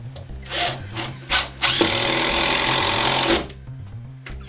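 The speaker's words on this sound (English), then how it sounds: "it's just a matter of putting our screws into the blocking" A power drill drives screws into exposed wood blocking while grab bars go up on drywall: a few short bursts of whirring, then one long, loud, steady run that stops abruptly near the end.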